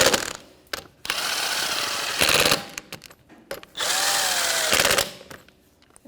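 A power tool snugs the rear shock absorber bolts on a 2011-2021 Jeep Grand Cherokee, firing in several loud whirring bursts separated by brief pauses, up close with no talk.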